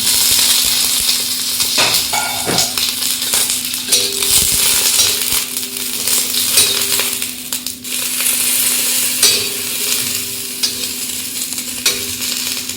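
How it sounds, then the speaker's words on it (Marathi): Very hot chillies roast in a little oil in a pan with a continuous loud sizzle, broken up by repeated scraping and clinking as a spoon stirs them. "थोडं तेल टाकून भाजून घ्यायचं छान"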